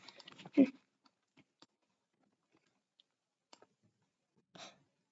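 A computer mouse clicks during a Happy Glass game, with a few sparse, sharp, close clicks spread irregularly through near silence and a brief burst of soft sound early on.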